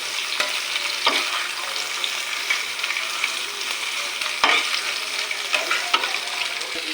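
Bitter gourd and egg stir-frying in a pan, a steady close sizzle broken by repeated scraping stir strokes of a utensil, with no voices.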